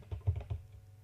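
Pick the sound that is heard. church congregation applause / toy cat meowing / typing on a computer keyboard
typing on a computer keyboard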